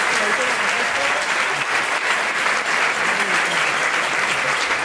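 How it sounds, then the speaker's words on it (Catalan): Applause from an audience at an end-of-year school concert, a steady dense clatter of many hands that holds at a constant level throughout. "Un aplaudiment per a ells també."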